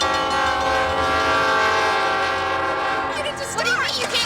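A train approaching a car stalled on the tracks, a loud sustained horn blast over rumbling wheels, with the tone bending and wavering toward the end.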